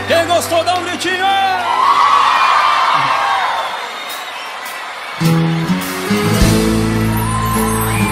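A live concert crowd at a show screams, whoops and cheers loudly in a sustained roar, with shouted voices rising over it and band music kicking back in afterward.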